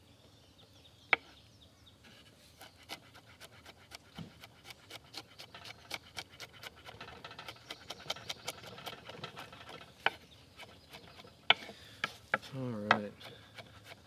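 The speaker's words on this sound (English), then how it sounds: "I'm going to mince this garlic up." A kitchen knife minces garlic on a cutting board, quiet and close, with sparse taps early on that build into rapid, irregular clicks of chopping and a few sharper knocks near the end, while one brief spoken word is heard.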